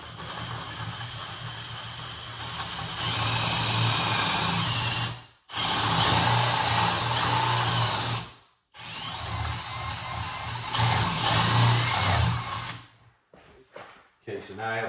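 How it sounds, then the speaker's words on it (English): Power drill boring a hole for a wrought iron baluster: three sustained whining drill runs of a few seconds each, separated by brief stops, close and loud, with faint clunks at the end. "Okay, so now I have a hole drilled here."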